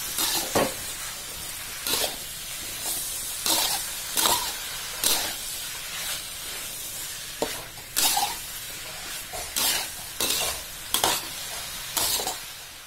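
Banana blossom is stir-fried with spices in a pan under a steady sizzle, with regular scraping stirs about once a second, close and clear.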